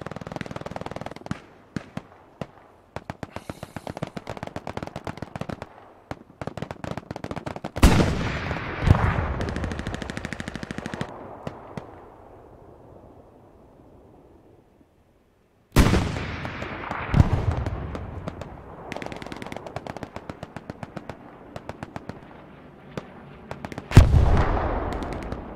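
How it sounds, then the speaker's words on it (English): Machine gun fire in a multiplayer war video game: bursts of rapid shots and heavy blasts, loud and close, that twice cut out sharply and resume, with no talking. "Got a machine gun on."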